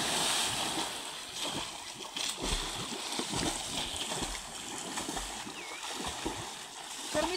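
A person jumping into well water, with a continuous rush of splashing and sloshing water close by for several seconds and a faint voice now and then in the background.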